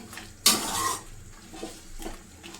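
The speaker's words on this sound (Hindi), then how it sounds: "ਹੁਣ ਅਸੀਂ ਮਿਕਸ ਕਰ ਦਾਂਗੇ" A spoon stirring potato and aubergine curry in a metal pot, with one loud scraping clatter followed by softer scrapes and knocks, close and without talk.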